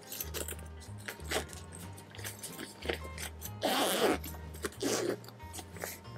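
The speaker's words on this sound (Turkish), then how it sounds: "Şimdi fermuarını açalım." A school backpack's zipper is pulled open in a couple of quick rasping strokes, close and fairly quiet, amid soft handling noises.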